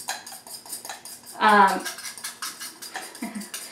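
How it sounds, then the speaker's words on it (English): A fork mixing taco spices in a bowl, with a few light metallic scrapes and clinks and one louder clatter, heard under a person talking. "I'm just going to mix them together with a fork."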